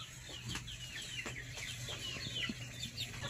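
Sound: chickens clucking while being moved to a grower pen

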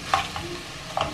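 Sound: onion sautéing in a pan

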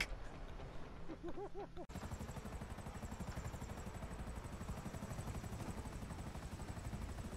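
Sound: helicopter flying in video game GTA

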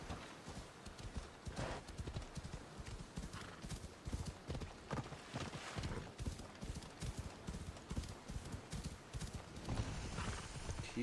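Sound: horse hooves galloping in the video game Assassin's Creed Odyssey

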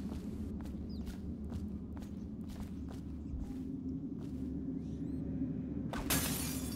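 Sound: glass breaking in the video game Dishonored

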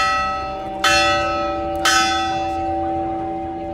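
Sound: monastery bell rung three times

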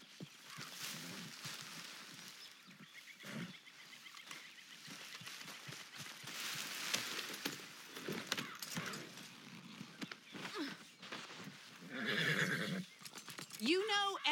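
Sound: horse neighing and hooves clip-clopping in video game Red Dead Redemption 2

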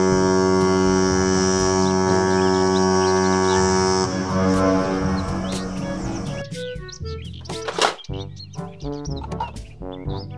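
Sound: cruise ship horn

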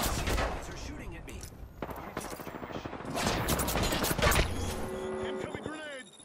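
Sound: enemy gunfire in Apex Legends video game

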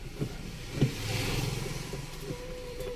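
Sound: car engine accelerating after clutch plate repair

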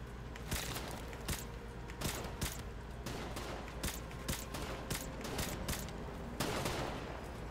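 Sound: gunfire in video game Call of Duty 4 Modern Warfare

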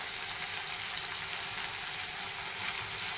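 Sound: sautéing chili-coconut paste with turmeric in a pan

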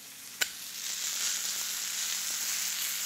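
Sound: steak searing in a pan

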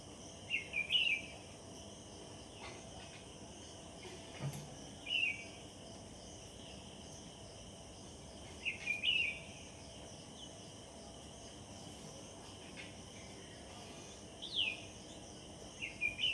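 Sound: morning birds singing

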